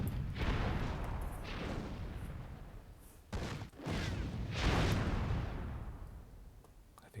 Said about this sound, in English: I think that was a friendly fire cannon shot from Father Xmas, perhaps.